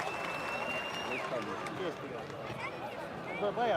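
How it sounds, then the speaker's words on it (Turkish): Spectators at the historic Elmalı oil wrestling tournament applaud and cheer as the head wrestlers head to the final, a busy crowd noise with clapping and chatter, mixed with amplified music. "finale giden baş pehlivanlarımıza kuvvetli bir moral alkışı istiyoruz"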